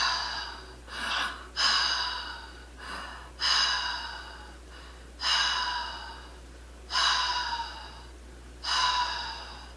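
A person demonstrates shallow chest breathing, drawing air in and pushing it out in a steady rhythm of about six loud, breathy pulses, close to the mic with no talking.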